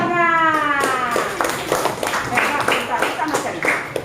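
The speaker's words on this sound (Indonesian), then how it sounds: "Tepuk tangan." Hand clapping in a classroom setting, several rapid claps in a burst under and after a voice, mixed with talking.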